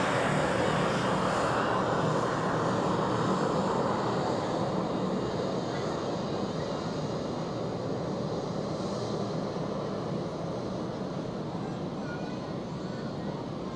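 A Swiss Boeing 777 airliner departs Zurich Airport for LAX, its broad jet roar loud at first and then slowly easing over about fourteen seconds, heard at a distance without speech.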